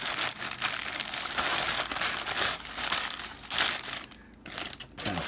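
Lard is pressed and forced down into a crock over stored meat, giving continuous close crunching and crinkling with a brief quieter pause.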